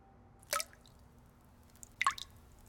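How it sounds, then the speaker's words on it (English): Water dripping from a leaking bathroom tap: two distinct drips about a second and a half apart, close and fairly clear against a quiet background. "Mommy, the tap is dripping."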